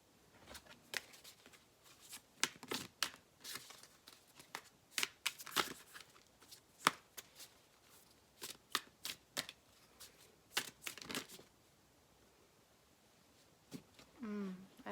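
A moon oracle card deck is shuffled in quick, irregular riffles and slaps of card stock, close and fairly quiet, with brief pauses between bursts.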